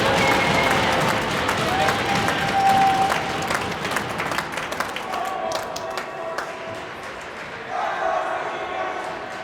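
Crowd applauding at a high school hockey senior night, steady dense clapping with cheers and shouts throughout, easing somewhat toward the end, with a voice heard faintly underneath.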